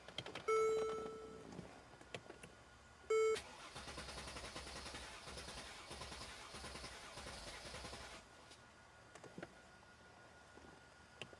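A Mercedes M276 engine with a low battery cranks on a jump pack after two chimes, turning over in a steady rhythmic churn for several seconds without catching, then stopping; fairly faint and close.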